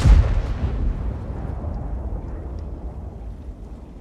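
A tank cannon fires in World of Tanks: a single heavy, close boom at the start that rolls off into a long, low rumbling decay with no talk.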